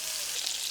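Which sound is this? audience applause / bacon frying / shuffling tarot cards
bacon frying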